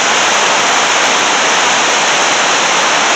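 Rushing white water on a river roars in a steady, loud broadband wash that holds unchanged throughout with no other sounds.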